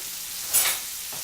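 Turkey sausage seasoned with cumin and Goya adobo sizzles briefly in a pan, a soft frying hiss that swells for a moment near the middle before settling back to a quiet background.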